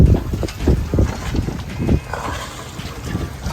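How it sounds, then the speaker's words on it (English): A dinghy tows a sailing yacht toward a marina on open water, giving low, pulsing motor and water rumble with steady wind buffeting across the microphone. "We are pulling the boat to the marina."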